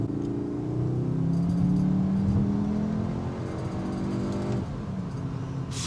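A Cupra Formentor with 306bhp pulls hard under full throttle, its engine note rising steadily in pitch through one long gear before a shift near the end, a loud continuous in-cabin drone with no talk.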